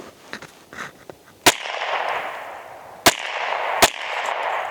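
A Kassnar M116 MK1 toy rifle fires at a target, three sharp loud cracks spaced unevenly, each followed by a lingering hiss, with faint handling clicks before the first shot.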